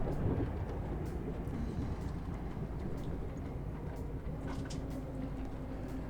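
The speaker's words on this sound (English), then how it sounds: "As the train continues to climb into the Blue Mountains" A train climbs into the Blue Mountains near Katoomba, heard from inside as a constant low rumble and rattle of the carriage with faint clicks, steady throughout.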